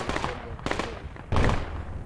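Gunfire in the video game Project Reality comes as three heavy, booming shots or short bursts, spaced roughly every half second to a second, with a deep low rumble. Players talk under the shots.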